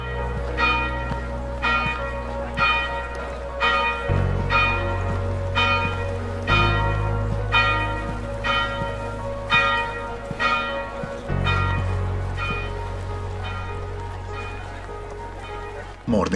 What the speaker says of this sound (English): And there goes the second bell.